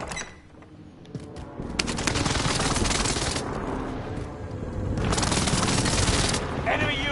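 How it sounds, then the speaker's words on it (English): Gunfire and blasts from a precision airstrike in Call of Duty: Warzone. Dense bursts of rapid fire and booming impacts roll on continuously and fairly loud, in two heavy surges, with game voices mixed underneath. "Allied precision airstrike incoming."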